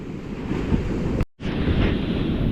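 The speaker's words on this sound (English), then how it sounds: "some of these waves are pretty big" Ocean waves crash steadily on a Long Beach shoreline, a loud continuous surf roar with wind buffeting the microphone and a brief dropout midway.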